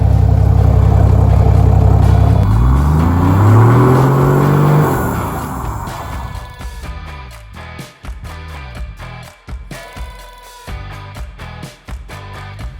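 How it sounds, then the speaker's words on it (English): A turbocharged 1HZ diesel engine in a 105-series Toyota Landcruiser with a 3-inch exhaust revs loudly, rising in pitch and then settling into a rough, uneven idle with intermittent throttle blips, up close. "we're installing a 3-inch exhaust today. Which, for the record, makes noises like this"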